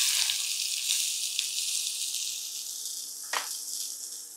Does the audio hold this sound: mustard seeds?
yes